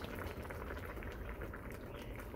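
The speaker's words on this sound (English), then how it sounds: "put the noodle and boil the noodle for 3 minutes" Noodles boil in a pot of water, giving a faint, continuous bubbling and rumbling close by, with no voices.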